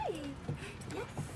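A rescued dog gives short, falling whimpers and whines, two or three soft cries close by within a second or so, with no clear talk over them.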